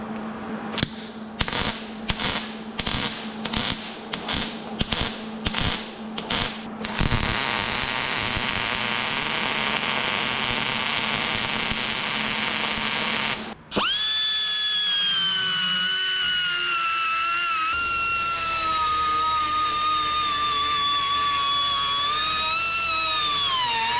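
MIG welder laying a bead on a Caterpillar D2 bulldozer blade during repair, a steady close crackling hiss that follows a run of sharp rhythmic bursts and gives way to tonal whining sounds.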